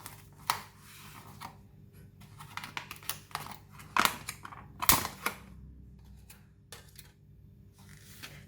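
A knife slicing salmon sashimi on a board gives scattered light taps and clicks, with a few sharper knocks and clinks against a quiet background.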